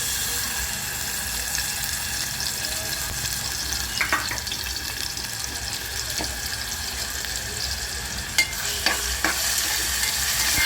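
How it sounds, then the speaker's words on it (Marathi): Ginger-garlic paste fries in hot oil with a continuous close sizzle, broken by a few sharp clicks and scrapes of stirring, with no voices. "तर आपला लसूण आणि अद्रक आपलं हे भाजून येत आहे"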